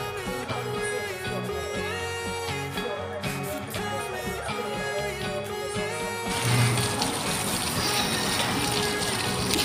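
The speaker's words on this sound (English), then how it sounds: "Wash my hands." Water runs from a tap while someone washes their hands, a steady broadband rush that starts abruptly partway through and continues to the end, following a stretch of music that carries on faintly underneath.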